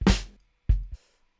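Two sharp snare hits, each a crisp crack that cuts off quickly, with a brief pause between them.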